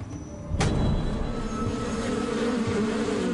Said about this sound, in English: The bees stay around the head.